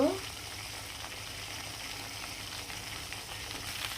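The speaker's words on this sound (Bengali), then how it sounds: "আর এটা আমি লাল লাল করে ভেজে নিব।" Chicken leg pieces fry in mustard oil, a quiet continuous sizzle and crackle held at an even level.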